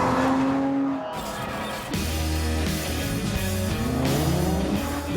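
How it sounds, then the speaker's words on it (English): Jaguar F-Type V6S sports car with a loud, deep exhaust note, revving and shifting through gears close by, the engine tone rising and falling with a brief lift before pulling hard again. "I get that exhaust note and that exhaust note only, although it is a mega exhaust note."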